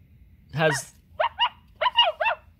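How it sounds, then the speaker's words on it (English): A Mattel Barbie plush toy dog gives an electronic bark followed by two quick pairs of short, clipped yaps, loud and close against a quiet background. "It barks and has lights up on its nose"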